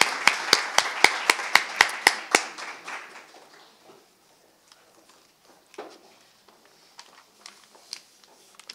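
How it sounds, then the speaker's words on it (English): Audience applause for the Lieutenant Governor at an evening event celebrating women, a burst of sharp, close claps for about three seconds that quickly thins to scattered faint claps and quiet murmur. "Let's give her another round of applause."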